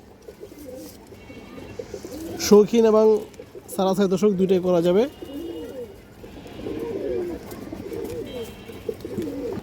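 Female pigeons coo softly and steadily in the background while someone talks over them for most of the stretch, with two louder bursts of his voice in the middle.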